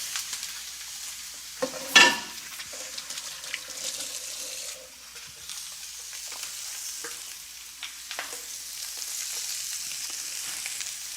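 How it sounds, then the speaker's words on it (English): Meat sautéing in a hot pan gives off a steady, soft sizzle close by, with a louder spatter as it goes in and occasional stirring scrapes, no talking. "That sizzling is really the moisture inherent in that meat beginning to boil."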